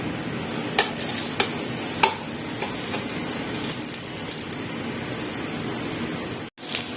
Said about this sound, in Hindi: अब देखिए, प्याज हल्के हल्के भून रहे हैं।